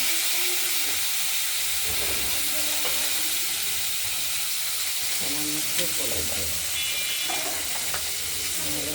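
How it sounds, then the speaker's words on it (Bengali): Potatoes and beans sizzle and hiss steadily in a hot pan, close by, with intermittent stirring sounds. "ভাজা হোক দেখতে থাকুন"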